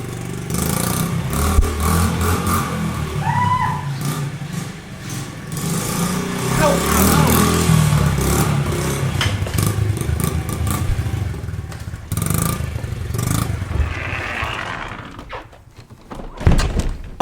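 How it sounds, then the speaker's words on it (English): A pit bike engine revving as it is ridden through the inside of a house, a loud, close buzzing motor rising and falling with thumps and knocks, and people talking and shouting over it. "I can't believe we've just pulled that off riding the pit bike through the house."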